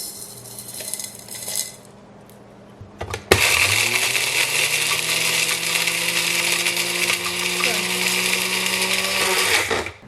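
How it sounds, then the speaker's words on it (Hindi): A small electric spice grinder whirs loudly and steadily through whole spices for nihari after a few clinks of spices dropped into the jar, running close and continuous for several seconds. "इन सबको ग्राइंडर में डाल के छोटे मसाले वाले में सबको मिक्स कर लूँगी, सबको ग्राइंड कर लूँगी"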